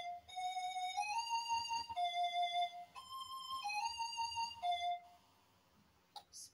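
Synth lead from the GMS stock plugin in FL Studio plays a bright, stepping melodic phrase in two repeated bars, loud and alone, then trails off into near silence with a brief click at the end.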